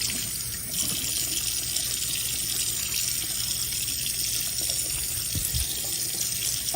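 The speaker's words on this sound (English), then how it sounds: "Give it a little rinse." A cleaning sponge rinsed under a running tap, with water gushing steadily into a sink at close range and no voices.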